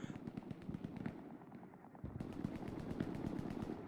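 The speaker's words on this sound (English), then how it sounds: "big rocket from Tiny Moose" A rocket explosion in Hell Let Loose, heard amid the game's dense gunfire: rapid rattling shots and a heavy blast, with a brief lull before the firing resumes.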